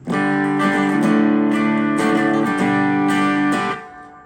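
A sustained, warm overdriven guitar chord through a Line 6 POD 2.0 tube preamp amp model rings out, restruck a few times with full, saturated tone before fading at the end.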